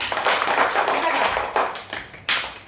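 Scattered hand claps from a classroom of children applauding a classmate named Pavitra, a few uneven bursts of clapping with brief pauses, mixed with the noise of the room.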